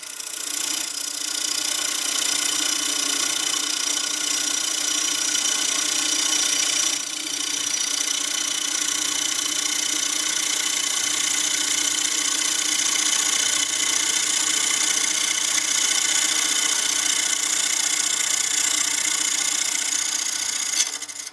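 A wood lathe spins a bowl blank while a carbide cutter takes a side-grain cut, producing a steady, loud whirring hiss with a constant machine hum running unbroken for about twenty seconds.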